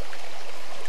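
A waterfall in Cwm Idwal in the Ogwen Valley pours over rocks, giving a loud, constant, close-up rush of splashing water with no voices.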